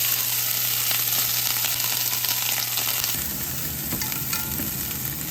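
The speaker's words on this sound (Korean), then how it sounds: "그래서 오일을 좀 올리고 베이컨을 넣겠습니다" Bacon fries in oil in a pan, making a continuous close sizzle and crackle with a few stirring scrapes. A low background hum drops away partway through, and no one speaks.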